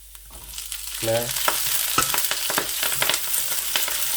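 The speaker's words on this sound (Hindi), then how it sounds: "इस तरीके से अदरक को थोड़ा सा पकाकर" Ginger frying in a pan for a lamb stir fry, a continuous close sizzle with scraping stirring strokes after a brief word at the start.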